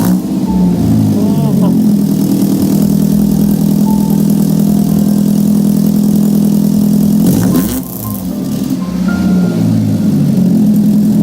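A race car engine with a race exhaust idles and rumbles loudly close by, throaty, with a brief blip of revs partway through.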